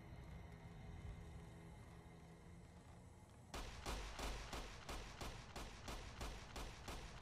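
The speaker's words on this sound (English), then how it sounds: "That sounds like gunfire." Steady background rumble, then a rapid series of sharp gunshot bursts in quick succession, distant and fairly faint, like gunfire in Fallout: New Vegas.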